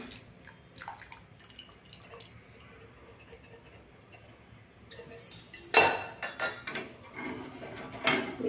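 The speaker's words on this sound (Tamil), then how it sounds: "இப்போ தீயை தூக்கி விட்டுட்டு நாம் கிண்ட ஆரம்பிக்கிறோம்" A spoon scrapes and clinks against a pot while ragi porridge is stirred off the heat, quiet at first, then louder with irregular knocks and scrapes near the end.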